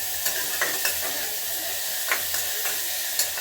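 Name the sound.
frying chili, tomato, onion and ginger in a pan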